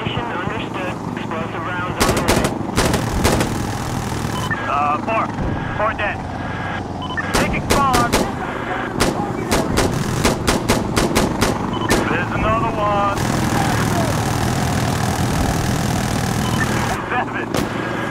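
Bursts of gunfire in Insurgency Sandstorm co-op on the Farmhouse map, with rapid loud shots in clusters, automatic volleys and single cracks, and a steady engine or rotor hum beneath as players talk.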